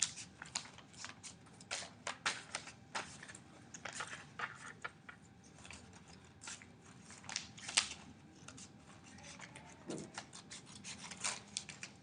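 Close, repeated crisp snips and rustles of scissors cutting through paper, irregular in rhythm, with no talking.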